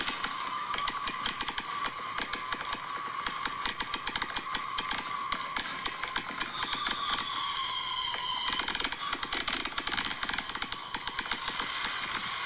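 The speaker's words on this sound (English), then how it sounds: "I'm gonna show you the video of like the firework I was talking about earlier" Fireworks crackle and pop in dense, continuous rapid bursts, a loud sustained barrage with a whistling streak partway through, heard alone with no talk.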